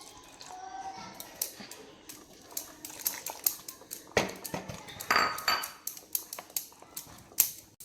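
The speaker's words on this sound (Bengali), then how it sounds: "আমি ব্যাটারটা অল্প অল্প করে জল দিয়ে মাখিয়ে নেব" A spoon clatters and taps against a bowl as batter is mixed with water, irregular clinks and wet stirring knocks close by, with a faint voice in the background.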